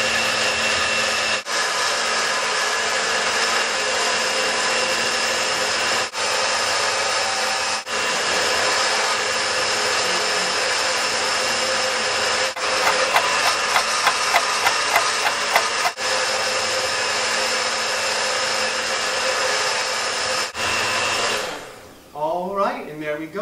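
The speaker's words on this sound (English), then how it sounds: "we're going to turn on our blender to its highest setting" A blender runs on its highest setting blending almond milk, a loud steady whirring roar holding for over twenty seconds with a brief rattling change midway before it cuts off near the end.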